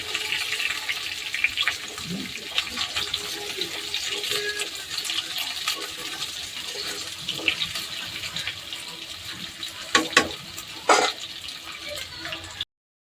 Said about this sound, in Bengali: একটু ভাজা ভাজা হলে তাদেরকে নিয়ে মিশিয়ে ভাজতে হয়।